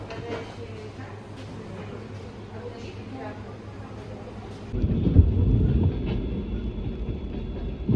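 A single-car train rumbles along on the rails in Ukhta, Komi Republic, its low drone growing louder and rougher midway, with wind buffeting the microphone and voices in the background.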